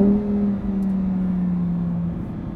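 A Lamborghini Huracan Evo is driven in sport mode while drifting on a racetrack. Its engine gives a steady, fairly loud hum that slowly falls in pitch, with no talk.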